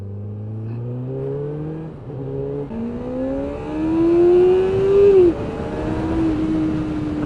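A 1998 Kawasaki ZX-7R sportbike pulling hard in first gear, the engine note climbing steadily in pitch as it revs higher and louder, then a brief drop near the top before carrying on.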